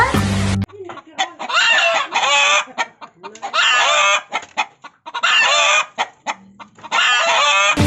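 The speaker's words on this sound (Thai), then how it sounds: "ไก่บ้านหนูร้องยังไงคะ" Domestic chickens cluck in four loud, close bursts of rapid clucking and squawking, separated by short pauses, with brief musical tones at the very start and end.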